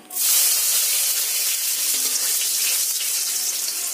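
Water runs in a steady, close, loud stream into a bowl, starting abruptly and continuing without a break.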